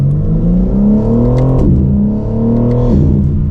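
A BMW M4 Competition sports car accelerates hard, its engine revving up through rising pitch, dropping briefly at each gear change around two shifts, then climbing again, loud and close from inside the car.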